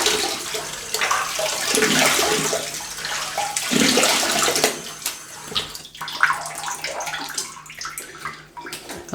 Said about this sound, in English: I'll have a little rinse here.